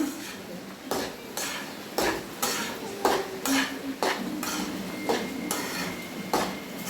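A spoon scrapes and knocks against a pan while masala is stirred into drumstick curry, about a dozen sharp, evenly spaced strokes over a low background hum.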